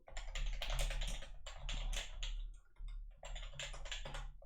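Rapid bursts of typing on a computer keyboard while coding, the clatter coming in close, uneven runs with short pauses between them.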